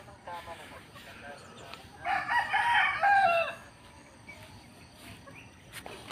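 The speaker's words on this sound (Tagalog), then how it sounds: "dami manok yun" A rooster crows loudly for a couple of seconds over a backdrop of chirping insects and faint outdoor ambience, with occasional soft clucks.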